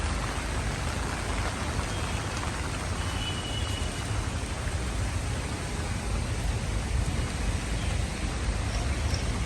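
Steady, dense hiss of rain falling continuously on a rooftop garden at moderate volume, with no voices.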